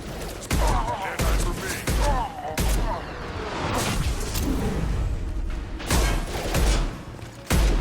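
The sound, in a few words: gunfire in the video game Mass Effect 2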